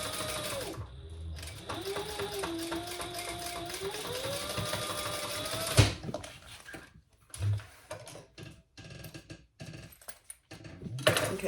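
A sewing machine runs steadily for about six seconds, basting lining and fabric together at an eighth-inch seam for a sling bag, then stops; quieter handling clicks and rustles follow.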